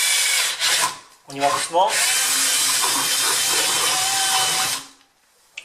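An electric drill bores a hole for an earthing wire during a home electrical grounding job, whirring loudly and steadily in a few close bursts with short pauses, then stopping; a voice speaks briefly.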